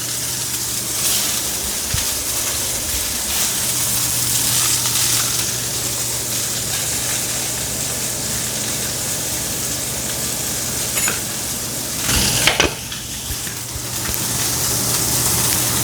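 Fish searing in hot oil, a continuous crackling sizzle with a low steady hum beneath and a brief louder burst near the end.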